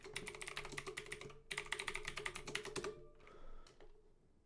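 Fast clicks from a computer keyboard rattle out as google.com is typed, two dense bursts of keystrokes close up, followed by a couple of isolated taps and a quieter tail.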